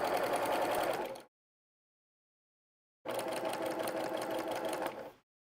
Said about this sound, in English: back tack those seams just a hair